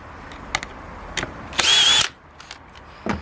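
A Dewalt DCD795 cordless drill drives screws in a short, loud whirring burst, framed by sharp clicks and knocks from handling before and after.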